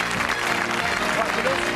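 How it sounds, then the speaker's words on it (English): Studio audience applause on a game show: dense, loud clapping spread across a crowd, continuous through the short clip with some voices mixed in. "Give a nice round of applause, they go across."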